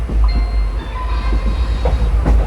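Passenger train rolling into Madgaon Junction railway station, a low steady rumble with faint wheel squeal and rhythmic clatter heard from on board, close and continuous.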